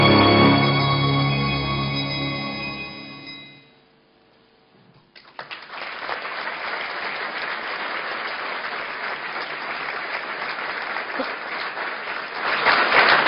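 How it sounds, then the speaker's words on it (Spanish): An audience at a public ceremony breaks into sustained, dense applause after music fades out, the clapping steady and full for several seconds, rising slightly at the end. "¡Aplausos!"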